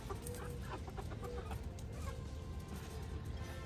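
Backyard chickens kept under a cover cluck busily in the morning, a steady run of close, overlapping clucks and short calls with no talking.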